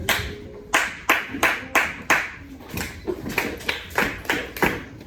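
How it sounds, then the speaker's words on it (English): Fifth-grade students in a science classroom answer a clap-back call with a crisp rhythmic pattern of unison claps, around a dozen sharp hand strikes in quick groups, close and loud with brief pauses between bursts. "One more clap back."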